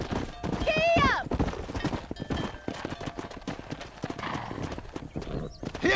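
A horse in the video game Red Dead Redemption gallops with rapid, rhythmic hoofbeats up close, a whinny near the start, and game voices talking over the gallop.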